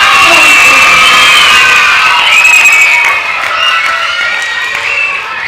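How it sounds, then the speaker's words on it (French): Young audience at a children's concert performance of Peter and the Wolf cheering and shouting for the baritone saxophone, a loud, dense wash of excited voices with whoops that eases slightly toward the end. "On applaudit le saxophone baryton."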